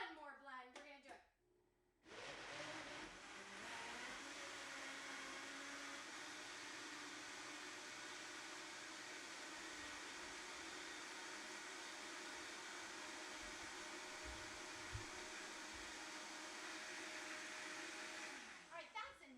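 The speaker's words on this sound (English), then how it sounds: "this Vitamix is so 11 years old that it's really, it's struggling" An 11-year-old Vitamix blender strains as it churns thick vegan chocolate cream pie filling, a loud, continuous roaring whine that runs unbroken for over fifteen seconds before cutting off.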